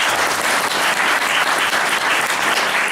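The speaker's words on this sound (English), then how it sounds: "I would like to give him a round of applause" An audience at a benefit event for Ferrara's Teatro Comunale gives a round of applause: dense, even clapping from a large crowd, loud and sustained throughout with no pause.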